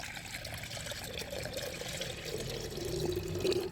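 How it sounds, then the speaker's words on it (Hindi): Buttermilk poured into a clay pot makes a soft, continuous liquid trickle that grows slightly louder and fuller toward the end, heard close with no voices. "मटके में ये देखिए हम छाछ को डालेंगे।"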